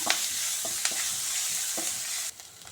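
Onion, green chili and curry leaves sautéing in a pan for a raw banana curry, a close crackling sizzle with several stirring scrapes, quieting slightly near the end, no voices.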